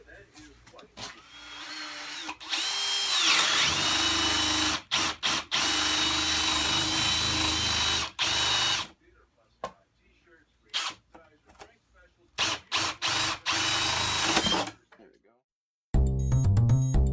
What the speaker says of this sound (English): I'm going to take some Milwaukee self-feeding bits here. Yeah, it looks about good. This is what, 3/4 of an inch. We're just going to tap it through.